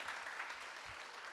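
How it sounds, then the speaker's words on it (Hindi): Audience clapping at an evening multilingual poetry recital, a brief dense burst of applause heard from within the crowd, steady and fairly faint. "एक बार ज़ोरदार तालियां आप लोगों के लिए"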